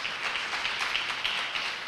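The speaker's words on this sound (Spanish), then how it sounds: "¿Por qué no le das un fuerte aplauso al Señor?" A church congregation applauding during a sermon: steady, fairly soft massed clapping that sounds somewhat distant and holds an even texture throughout.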